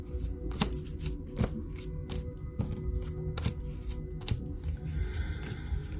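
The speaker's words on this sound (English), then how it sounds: "Just going to spread these cards quickly." Tarot cards are spread quickly across a surface, producing a close run of crisp flicks and soft slaps in an uneven, rapid rhythm.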